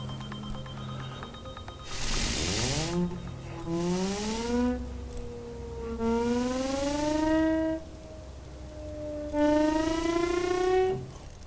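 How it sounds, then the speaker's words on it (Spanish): A Cagniard de la Tour siren with spinning perforated wheels wails in several separate bursts, each tone sliding upward in pitch as the wheels speed up, loud and clear with no talking. "Esto es lo que se llama la sirena de Cagniard."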